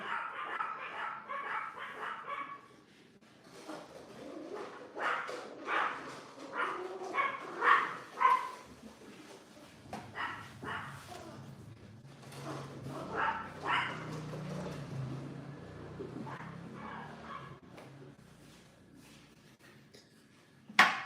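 Small dogs barking indoors, a long series of sharp yaps and yips in clusters, fairly close, with quieter whimpering stretches between bouts.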